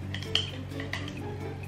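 Small metal picnic spoon and knife from a Miniso blind box clinking and rattling as they are handled, with a few light sharp taps over a low hum, close and fairly quiet, no talking.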